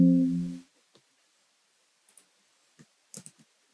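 A few light computer keyboard key clicks, presses on a Control+N shortcut, come as sparse, brief taps after a short tonal hum at the start, fairly quiet and with no talking.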